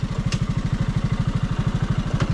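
A motorcycle engine idles close by in a fast, even chug of regular thumping pulses while being parked near the Duduma waterfall ticket counter in Koraput, Odisha, with a couple of faint clicks over it.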